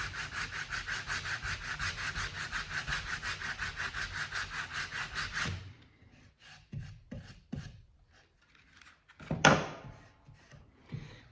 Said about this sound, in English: I'm coming in here with sandpaper and basically sanding this down to a point.